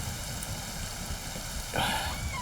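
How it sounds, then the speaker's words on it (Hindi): Steady rain falling outside a room, a constant dense hiss that holds through the whole clip, with a brief brighter sound near the end. "लगता है ये बारिश रुकेगी ही नहीं"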